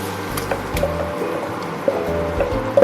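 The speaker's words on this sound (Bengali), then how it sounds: "এই যে পেস্টটা রেখেছি এটা আমি আমি এবার দিয়ে দিচ্ছি দিয়ে খুব ভালো করে আমি নাড়ব" A spice paste is stirred into mochar daal, a Bengali banana-blossom lentil dish, in a pan. Wet squishing and soft liquid sloshing sit close and fairly loud, with a few sharper scrapes, and no talking.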